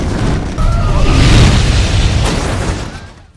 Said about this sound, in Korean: 아트는 가스를 폭발시켜 비기로부터 벗어나죠.